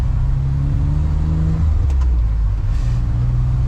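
A kei truck drives at around 25 km/h in third gear. Its engine gives a loud, steady low hum and drone close by, and the pitch drops briefly midway as it shifts before settling again.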